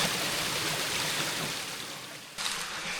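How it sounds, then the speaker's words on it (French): Forest stream in Quebec flowing down toward a beach, a steady close rush and gurgle of water running over stones, constant throughout with a slight dip and then a louder surge near the end. "Ce ruisseau-là, il descend jusqu'à la plage."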